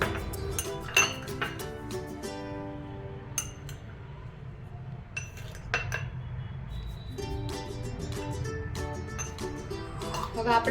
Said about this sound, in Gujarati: 150 ગ્રામ પનીરને ગ્રેટ કરી તેની અંદર રેડ ચીલી ફ્લેક્સ, ઓરેગાનો, કોથમીર તથા સ્વાદ અનુસાર મીઠું એડ કરી આ રીતે મિક્સ કરી લો